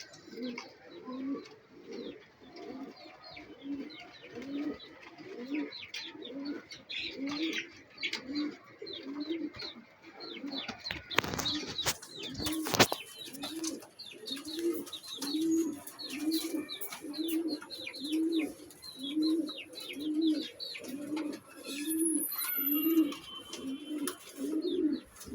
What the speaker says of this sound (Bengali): অলরেডি আমি খাবার দিয়ে দিয়েছি, কবুতর খাওয়া দাওয়া করতেছে।